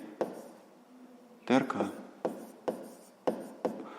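Pen writing by hand on paper while working a sixth-grade maths exercise, with scratchy strokes in short bursts and a sharper scribble midway, heard under quiet surrounding speech.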